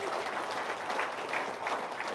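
An audience breaks into steady, dense applause, many hands clapping together at a constant loudness throughout, filling the room with no voices over it.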